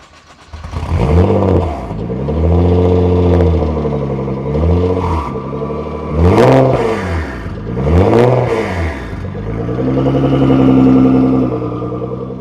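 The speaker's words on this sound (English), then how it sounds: "You can hear the turbo through the exhaust." A 900 HP Nissan GT-R starts and is revved repeatedly, loud rising and falling engine swells with turbo whoosh through the exhaust, several sharp blips then a sustained higher rev near the end.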